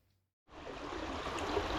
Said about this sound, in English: a little tiny stream. It just comes off the moors